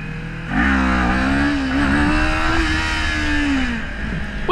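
A motorcycle engine revs up hard for a wheelie, pitch climbing and holding in a loud, close sustained rev before easing off, with no talk over it.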